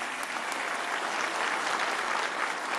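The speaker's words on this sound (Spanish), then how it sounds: "Un aplauso muy fuerte a todos los de Iztapaluca." Steady, dense applause from a large crowd at a public event in Ixtapaluca, State of Mexico, sustained and even throughout without pauses.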